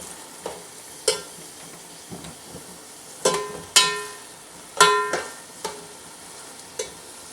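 Onions browning in a pan for beef haleem, with a low steady sizzle broken by scattered clinks and scrapes of a spoon stirring, loudest in a few sharp strikes midway, no talking.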